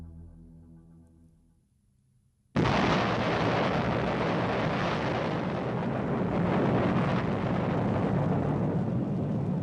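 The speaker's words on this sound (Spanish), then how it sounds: "Es la primera explosión nuclear de la historia" The first nuclear bomb test in the New Mexico desert: a low hum gives way to a sudden, massive blast that becomes a sustained, loud rumbling roar.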